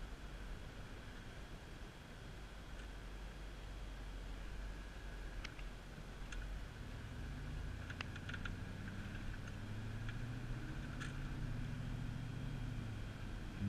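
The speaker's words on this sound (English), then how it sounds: "Exhaust system sounds very good." A 1999 GMC Yukon SLT rolls along with a steady low engine and exhaust drone, rising slightly in the second half, under broad road and wind noise, with a few faint clicks and rattles from inside the cabin.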